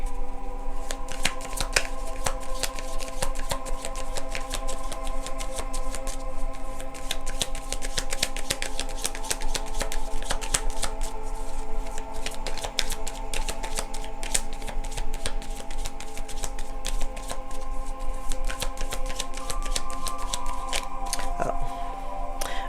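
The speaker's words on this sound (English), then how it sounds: "I'm shuffling, no cards are popping out" Tarot cards being shuffled by hand, a dense, continuous riffle of crisp card slaps and flicks that carries on steadily and close for over twenty seconds, with faint background hum and no talk.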